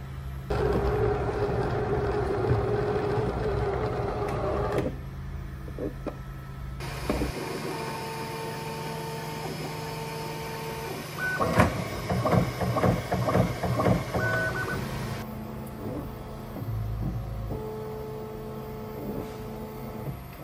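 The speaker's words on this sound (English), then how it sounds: "File's just been transferred through to the printer. We'll purge out the filament. Going to use transparent PETG." 3D printer purging transparent PETG filament, a quiet mechanical hum with steady motor whines and a stretch of busier stepping and whirring sounds in the middle, no voices.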